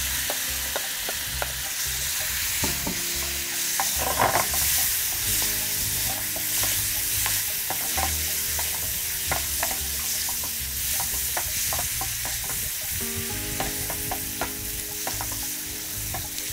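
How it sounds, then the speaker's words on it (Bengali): Chicken sautéing in butter in a pan, a steady close sizzle and crackle with occasional stirring scrapes and clinks throughout. "আমি চিকেনটা যেহেতু বাটার দিয়ে আমি ওইটাকে সটে করতেছি"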